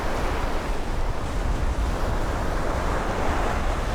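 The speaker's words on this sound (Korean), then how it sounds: "1년에 몇 차례 폭풍우가 치는 때 파도가 넘실대고 집중호우로 호수물도 넘친다." Storm waves surging at a coastal lagoon on the east coast, a continuous loud roar of surf and wind with no distinct breaks and no voices.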